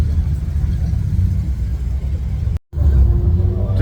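Cars pass by at the busy Nürburgring, a continuous loud low engine rumble close by, briefly cut out for a moment before resuming.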